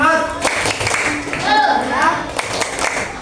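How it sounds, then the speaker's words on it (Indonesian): A group claps a rhythmic spirit cheer in a classroom-style session, with several sharp clap bursts mixed with loud voices chanting and talking over them, close and lively. "tepuk semangat"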